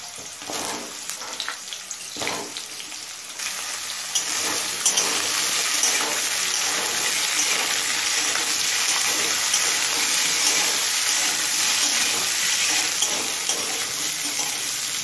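Potato, carrot and radish chunks fry in a pan after a dry red chilli tempering, giving a loud, continuous sizzle with stirring scrapes and a few sharp clatters near the start, close and steady throughout.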